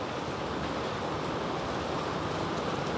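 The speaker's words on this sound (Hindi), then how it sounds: "बारिश हो रही है" Steady, dense hiss of rain falling, even and unbroken throughout.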